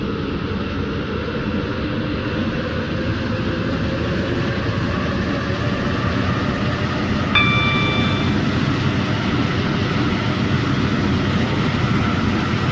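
A passenger train in the video game Stepford County Railway runs along with a steady, close rumble and rolling hum that continues without a break, with a brief high electronic tone partway through.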